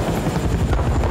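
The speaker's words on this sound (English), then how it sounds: "I'm on the helicopter." Loud, close helicopter rotor noise from the video game Battlefield Bad Company 2, a steady rapid chopping throb that fills the whole short moment.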